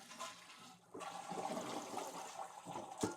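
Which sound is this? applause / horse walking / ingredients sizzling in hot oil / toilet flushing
toilet flushing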